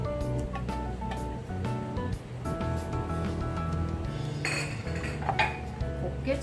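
A kitchen knife slicing peppers into fine julienne strips for gochu japchae in a Chinese cooking class, with quick clinking and tapping on the board and against metal bowls, up close and busy, and a voice murmuring faintly in the background.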